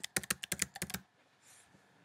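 About a dozen quick, light keystrokes tap out a password on a computer keyboard, close and crisp for a second before falling into faint room quiet.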